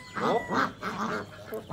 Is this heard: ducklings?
yes